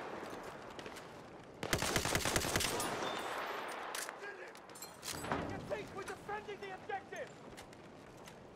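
Gunfire in the video game Battlefield 1, including shotgun blasts: a sudden loud burst of rapid shots, followed by scattered fainter pops and battle noise, with a voice talking over parts of it.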